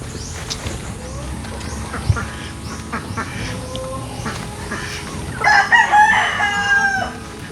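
Chickens and ducks kept at a farm where pigs are raised, with roosters crowing, hens clucking and ducks quacking. The calls rise to a louder burst of crowing near the end, and there is no talk.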